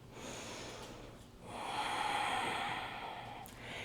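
A slow, audible breath drawn in and released through the nose during yoga practice, soft and close, rising in the middle and fading out.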